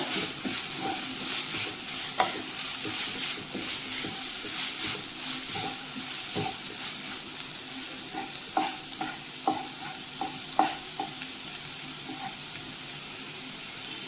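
Pumpkin-leaf thoran mixed with a paste, stirred and fried in a pan: steady sizzling hiss with scattered spoon scrapes and taps at an unhurried pace, close by and with no voices.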